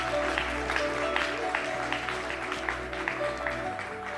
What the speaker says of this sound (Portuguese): Se você vai aplaudir,